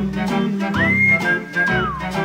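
A person whistles a tune while walking along a street in Alexandria's old town, one clear gliding melodic line carried over steady musical accompaniment.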